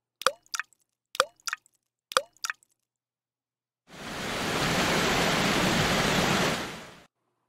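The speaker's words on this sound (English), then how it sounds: "What about the sound of a water drop and a waterfall?" Three pairs of crisp water-drop plops at a steady pace, then silence, followed by a loud, continuous rushing roar of falling water lasting about three seconds.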